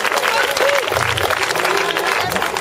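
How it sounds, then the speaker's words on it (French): Applause from a crowd at a French agility team presentation, dense steady clapping filling the whole stretch, loud and close, with a voice speaking over it. "Donc on peut l'applaudir."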